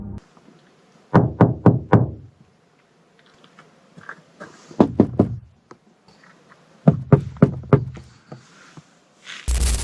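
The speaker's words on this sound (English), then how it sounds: "Someone began knocking against the panels, tapping different sections as if checking for a response." Sharp knocks and taps strike the panels of a van, falling in three separate clusters of four or five quick raps, each cluster close and loud, with near silence between them.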